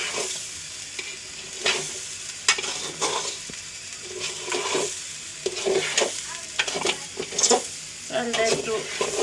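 Spice paste and salt stir-fry in a pot for biryani, a sizzling hiss broken by repeated scraping strokes of a spoon against the pan, close and irregular, with a voice faintly present at times.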